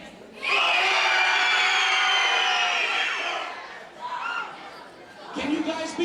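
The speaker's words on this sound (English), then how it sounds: "Everyone over here, I want my left side to scream as loud as you can." At a Black History program event, half of a crowd screams as loud as it can in a sudden, sustained burst lasting a few seconds, then trails off into scattered shouts and chatter.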